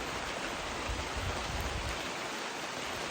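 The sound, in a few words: nice steady slow rain falling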